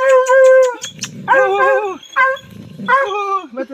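A hunting dog barks and yelps during an armadillo hunt in Loma Bonita, Oaxaca, giving several loud, close bursts of high, urgent yips in quick succession.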